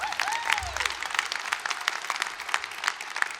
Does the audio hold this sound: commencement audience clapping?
yes